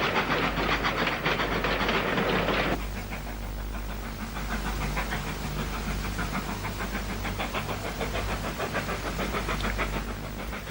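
A steam locomotive on a 1950s–60s British Railways line labours up a steep bank toward the summit, its heavy rhythmic exhaust beats and clanking motion growing steadily louder as it approaches.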